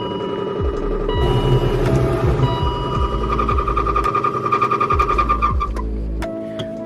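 Faulty blower motor in a BMW E38 runs with a rough, throbbing mechanical rumble and a rhythmic ratcheting pulse, loud and close, with a rising whine near the end.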